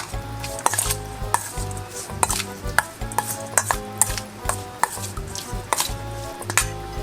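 A red sausage salad is mixed and tossed in a bowl, with steady close clacks and scrapes of a utensil against the bowl in an even rhythm and no talking.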